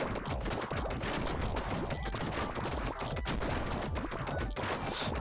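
Firecracker weapon in the cartoonish frog action game Frog n Roll, with a dense, steady crackle of small popping blasts that runs without pause, mixed with busy game effects.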